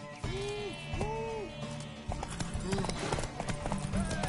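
Horse hooves clip-clopping in The Witcher 3 video game, a short run of steps mixed with a tonal game score and talk from voiced characters.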